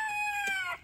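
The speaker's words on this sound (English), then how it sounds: "so he is crowing to his ladies to let them know she's got food, come and get it" A rooster gives one short, close crow with a bright rising-and-falling call that stops abruptly in under a second.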